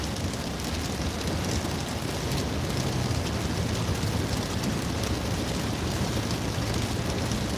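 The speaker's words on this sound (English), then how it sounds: "Ooh, rain is coming down in Arizona." Rain coming down in Arizona, a steady, dense wash of drops striking surfaces nearby, continuous and even with no talking.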